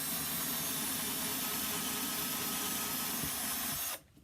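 A power drill with a 3/16 inch bit bores a hole for a dowel rod, a continuous close whirring grind that runs steadily for about four seconds and then cuts off abruptly.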